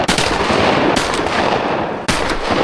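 Shotgun blasts during a duck hunt on a frozen river, three loud close reports spaced about a second apart, each sharp crack followed by a rolling echo.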